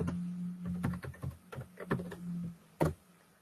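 Keystrokes on a computer keyboard during a walkthrough of HR payroll software, heard as a quiet, irregular run of close clicks and taps with a faint steady hum underneath and no talking.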